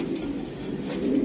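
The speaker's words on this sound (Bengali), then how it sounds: "এটা একটা নর কবুতর তাই না ভাই?" A male club racing pigeon coos in a brief, low, rolling burst, close and steady, with no talking.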